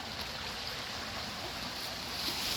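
A rain-swollen brook in rural Nova Scotia, a steady broadband rush of flowing water, close and continuous with no breaks.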